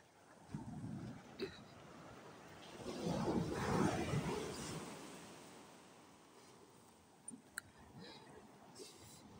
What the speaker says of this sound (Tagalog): So, nakaka-relax yung hampas ng tubig.